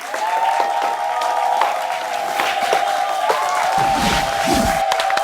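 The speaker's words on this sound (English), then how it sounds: "Round of applause from Dan and SLK." Audience applause and some cheering at the close of a comedy news show, a steady crowd wash with a sustained tonal sound running through it for the whole stretch.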